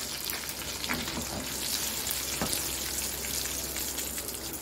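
Whole red chillies, curry leaves, cumin and mustard seeds frying in hot oil, a steady dense sizzle and crackle held close and loud throughout, with no one speaking.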